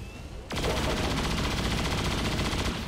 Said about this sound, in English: Yeah, go ahead and shoot this thing.